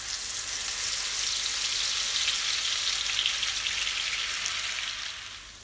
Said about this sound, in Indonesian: Siapkan wajan kesayangan Anda, beri sedikit minyak goreng